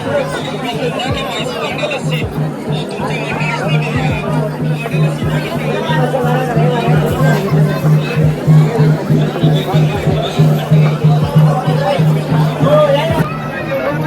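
A crowd gathered at the main gate of a temple on the Jyotiba and Mahalakshmi pilgrimage in Kolhapur, dense babble of many voices close around with a nearby voice talking over it, growing busier midway.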